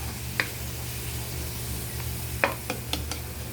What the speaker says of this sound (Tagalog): Gigisahin natin mabuti yan. Eto na guys, haluin na natin sila.